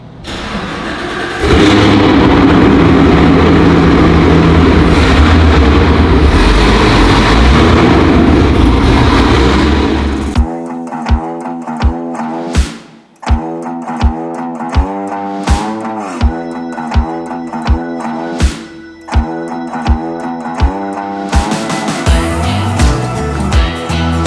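A 1,000 horsepower Hennessey Exorcist engine cold starting, with a loud cranking roar and high idle, then a lumpy, rhythmic idle punctuated by sharp blips and pops close by.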